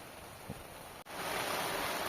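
Rain falls steadily while fishing from a bamboo raft on Jatiluhur reservoir, a dense, even hiss of drops that holds close and constant throughout, with no voices.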